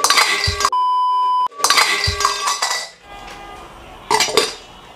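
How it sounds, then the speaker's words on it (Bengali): Medium-sized Chinese woks are handled and knocked together, giving loud metallic clinks and one sustained bell-like ring, followed by quieter rattling and another clattering clink near the end. "এগুলি চাইনিজ কড়াই, খুব সুন্দর, মানে সাইজটা খুবই সুন্দর, একদম মিডিয়াম সাইজ"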